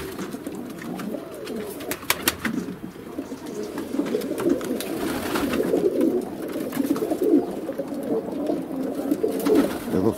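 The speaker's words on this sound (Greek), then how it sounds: "Φαίνονται τα περιστέρια, μόνο που τα βλέπεις είναι φτιαγμένα για να πετάνε" Diving pigeons of the Havas breed coo steadily in a loft on a cloudy day, a dense, continuous murmur of overlapping calls with occasional sharp clicks and wing rustles.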